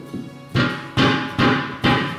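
Four heavy hammer blows strike a rear tractor tire at an even pace, each a loud, sharp thud with a short ringing decay, preceded by a faint tap.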